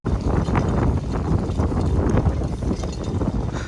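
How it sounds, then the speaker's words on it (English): Strong gusts roar into the microphone outdoors, a continuous loud rumbling buffet that fills the whole stretch with no break while someone walks to the gym. "It is super windy."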